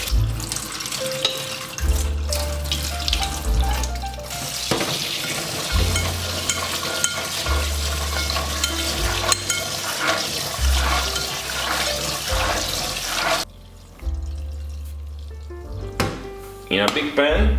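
Soaked borlotti beans drained and washed under running tap water, a steady loud rush of water with splashing and rattling of beans in a sink, briefly pausing before resuming, while music plays underneath.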